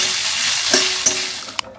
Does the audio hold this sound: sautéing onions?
yes